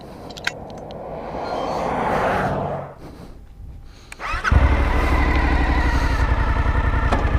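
2020 Suzuki V-Strom 1050XT motorcycle engine, with a brief rise and fall in revs before it drops away, then a loud close rumble settling into a steady idle for the final few seconds.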